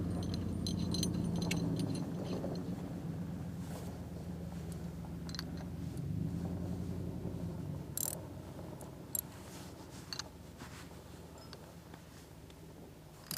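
Metallic clinks, ticks and small ratcheting taps sound close by as a brake pulley is bolted onto a Rokon motorcycle's driven pulley, over a low steady hum.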